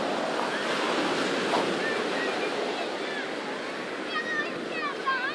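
Sea waves wash onto the shore at the Nocera marina on a dirty sea, a steady loud surf with wind buffeting the microphone and faint high cries near the end.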